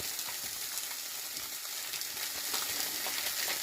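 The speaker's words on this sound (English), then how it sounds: "So the next thing I'm going to add to my pan is 3 pieces of Canadian bacon." Three pieces of pre-cooked Canadian bacon browning in a pan: a steady, dense sizzle and crackle that holds at an even level throughout, with no voices.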